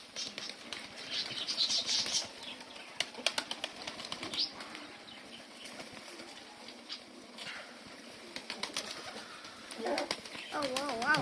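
Pigeons being sold flutter and flap their wings in repeated bursts, with soft cooing at a low level and occasional sharp clicks and taps in the background.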